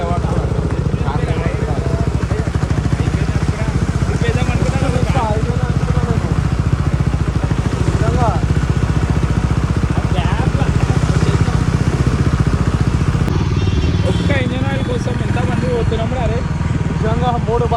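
Several motorcycles ride together on a road, their engines droning loudly and continuously, with people talking over the steady rumble throughout.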